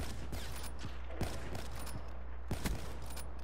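Gunshots from a first-person shooter video game pop out in scattered single and clustered sharp cracks over a steady low hum, moderately loud and irregular in rhythm.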